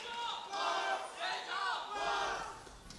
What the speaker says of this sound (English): They've definitely got some crowd support here in Berlin.